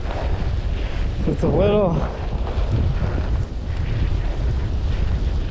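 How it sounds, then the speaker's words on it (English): Steady headwind rushing over the microphone on a first ride aboard a State 4130 All Road bicycle, a broad continuous roar that stays loud throughout while a rider talks briefly over it. "nice headwind"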